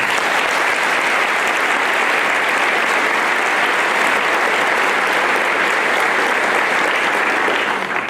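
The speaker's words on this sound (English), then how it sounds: "so please give them a round of applause." Loud, sustained applause from a large audience at a 2017 high school graduation ceremony in North Carolina, dense steady clapping filling the hall for the full stretch with no talk over it.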